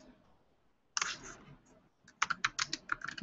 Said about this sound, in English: I can type some text.